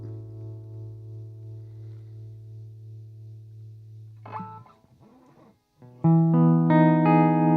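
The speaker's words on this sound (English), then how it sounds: "there's a real slow vibrato" An electric guitar plays through a Nembrini amplifier simulation in Cubasis with slow vibrato, first one long pulsing sustained note, then a few quieter picked notes and a louder chord ringing out.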